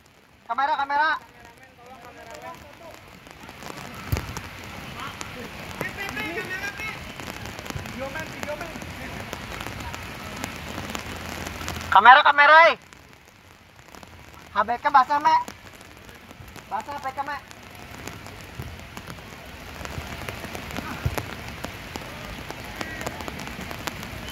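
Rain falls steadily on a mini soccer field during an internal fun match, a constant hiss of drops under scattered nearby voices and shouts, with a few louder bursts of sound partway through.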